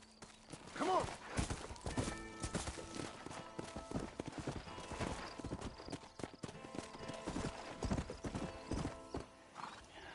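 Horse hooves clip-clop steadily during a ride in the video game Red Dead Redemption, a brisk, close rhythmic beat with a whinny near the start and snorts mixed in, and no talk.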